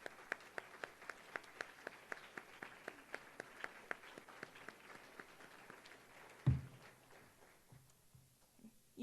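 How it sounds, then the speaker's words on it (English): An audience at a youth legislature opening claps steadily, with sharp individual claps standing out at a regular pace. A thump comes near the end, then the clapping thins out and fades to quiet. "Keep on clapping until I bang the gavel once more."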